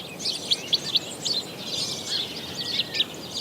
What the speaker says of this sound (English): Good examples are the finches and starlings.